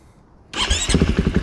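A 2022 KTM 500 EXC-F dirt bike with a Graves slip-on exhaust fires up abruptly after near silence, then settles into a loud, close, throbbing idle with a slightly uneven pulse.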